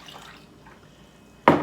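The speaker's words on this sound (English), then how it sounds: "I've got some water, warm water, ready to put in. I'm going to put it into this container" Warm water is poured into a container while making homemade pizza dough: quiet at first, then a sudden, loud splashing pour at the end.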